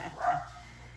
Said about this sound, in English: you can hear my dogs love this idea